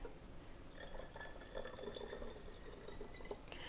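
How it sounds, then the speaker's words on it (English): Water pouring from a tap into a bottle to make a homemade cleaning product, a steady splashing, trickling stream that starts under a second in and runs on close by without talk. "the rest is going to be water. So we'll just fill to that top line."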